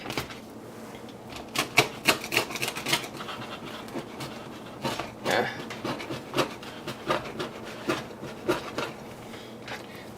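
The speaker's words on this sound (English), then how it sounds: "I can't find my pizza cutter, so I'm just gonna use my knife." Knife slicing through a pizza topped with vegan mozzarella shreds, giving a run of sharp, close scraping and crunching strokes in irregular bursts, with some quiet background noise between cuts.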